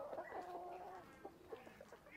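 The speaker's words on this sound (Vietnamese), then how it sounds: "Đợt này bà nội nuôi thêm gà nữa, thả vườn cho nó có ăn này ăn kia" Free-range chickens in a rural garden cluck and murmur at moderate distance, a scattered stream of short calls with a longer warbling cluck early on, and no voices.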